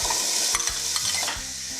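Chopped onion, about one and a half cups, tipped into a hot pan and stirred, giving a loud close sizzle with scraping strokes of the spoon and no voices.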